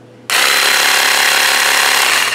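A handheld percussion massage gun kicks on suddenly and runs with a loud, steady, rapid mechanical buzz that holds at an even level until the end.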